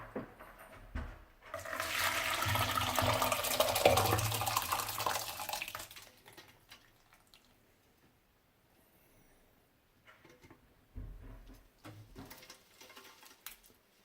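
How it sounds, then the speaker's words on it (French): Water at 70 degrees pours through a strainer over beer-brewing grains, a loud splashing pour for several seconds that fades, followed by quieter trickles and faint clatter. "je vais les rincer avec de l'eau à 70 degrés"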